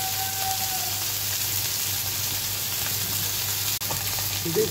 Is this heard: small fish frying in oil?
yes